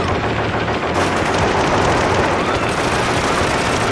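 Rapid automatic gunfire from the intro cinematic of the mech shooter game SHOGO: Mobile Armor Division, a loud continuous burst of machine-gun fire sustained throughout with dense rattling shots.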